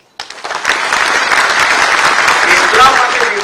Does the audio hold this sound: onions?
no